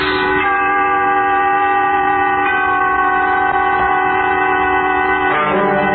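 Steady train sound effect from a 1950s radio suspense drama, with a sustained multi-tone horn holding loud and close throughout, a brief shift partway and another near the end, no talk over it.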